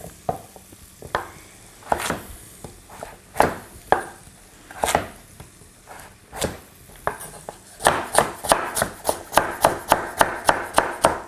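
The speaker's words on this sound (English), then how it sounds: "I'm just going to chop them roughly." A knife roughly chops vegetables on a wooden board, irregular at first and then settling into a quick, steady rhythm of sharp, close taps.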